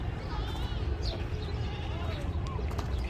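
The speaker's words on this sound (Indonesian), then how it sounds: "Itu kambing, itu juga kambing." Goats bleat amid livestock gathered for the Eid al-Adha sacrifice in Tarim, Yemen, with a few short wavering calls rising over steady crowd chatter and someone talking close by.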